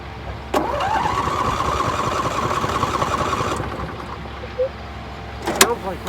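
An engine fires with a sharp start, runs roughly for about three seconds and then sputters out, followed by a few faint knocks and clunks at close range.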